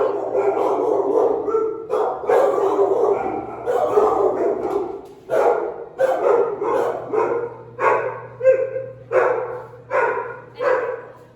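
Several dogs in shelter kennels bark and yip in repeated bursts, loud and nearby, echoing in an enclosed space over a steady low hum.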